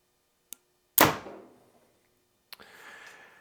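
A 2024 Mathews Lift 29.5 compound bow shooting an arrow: a soft click, then a sharp loud snap as the bowstring releases, followed by a fading twang and a distant thunk.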